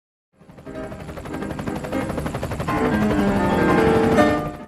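A loud, steady helicopter-like engine drone in a video game, overlaid with rapid bursts of gunfire throughout, continuous with no talking.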